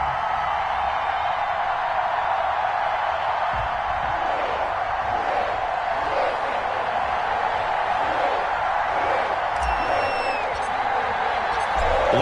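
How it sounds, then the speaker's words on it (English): A sold-out Cincinnati stadium crowd in an EA Sports NFL football game cheers with a steady roar. Occasional whoops rise above the wash, and a commentator talks over it. "The enthusiasm of this Cincinnati crowd in full effect a moment ago as their Bengals took the field to the delight of this sold-out crowd"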